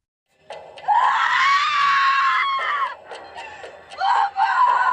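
A girl lets out a long, loud scream, then a second shorter shriek and another rising scream, all close and without talk.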